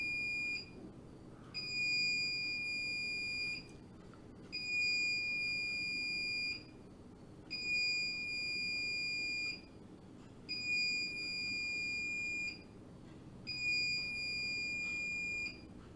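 Smoke alarm beeping during a power cut, repeating in regular bursts of about two seconds each with short gaps, clear and steady over a low background hum.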